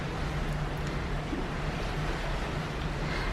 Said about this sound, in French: Le bruit des vagues et tout quand je dors.